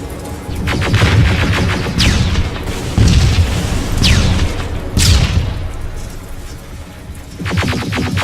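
Rapid gunfire and rocket blasts from the Terminator Resistance video game, loud and continuous, with bursts of shots and heavy booms recurring every second or so under a dense battle din.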